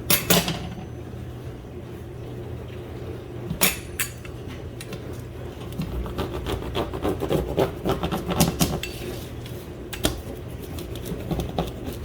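A knife cuts through a baked keto carnivore pizza crust topped with cheese, giving close, crisp scraping and crunching strokes in irregular bursts with sharp clicks of the blade against the board.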